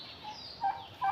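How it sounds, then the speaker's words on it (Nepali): Turkeys penned alongside peacocks let out two brief, faint gobbling bursts near the end of a short, quiet stretch. "मयूर र टर्कीलाई एकै ठाउँ"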